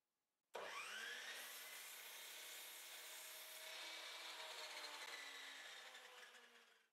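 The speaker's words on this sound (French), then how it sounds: "Je peux ainsi effectuer ma première série de coupes pour obtenir des bois qui auront tous" A hand saw rips through a wooden board during a run of same-length cuts at the workbench, starting abruptly and continuing as a close, steady rasping for several seconds before fading out, with no talking.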